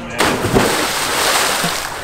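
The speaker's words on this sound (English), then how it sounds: "my splash was definitely bigger" A person does a cannonball jump into water in Florida, making a sudden heavy splash followed by sloshing and splatter that fade over about two seconds, with voices heard around it.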